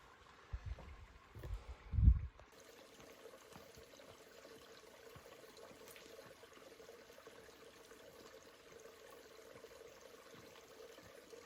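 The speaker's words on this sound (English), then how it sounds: "you can hear the water running" Fresh mountain water runs beneath a manhole as a faint, steady trickle and rush heard from above, after a brief louder thump at the start.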